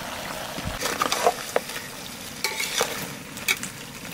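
Mutton being sautéed in a hot pan and stirred: a close, bubbling sizzle with irregular scrapes and knocks of the spoon against the pan.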